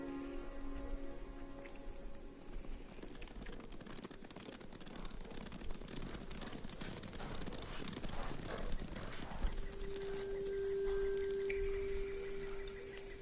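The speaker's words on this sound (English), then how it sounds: "You hear that? Horses." Mongol horses in the video game Ghost of Tsushima gallop past, hooves clattering in a rapid, uneven patter, with a thin steady tone and faint rustling in the background.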